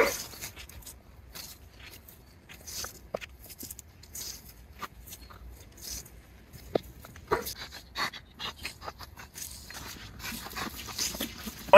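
A dog pants and whimpers during a training session, soft rapid breathing with occasional small yips and faint movement noises, close by and mostly alone.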